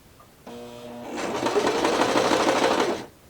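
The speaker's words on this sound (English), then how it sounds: "I am ready to press down on that foot pedal under the desk and start sewing" A sewing machine run by a foot pedal starts with a brief whirr, then stitches fabric in a rapid, steady mechanical chatter for about two seconds before stopping, close and clear.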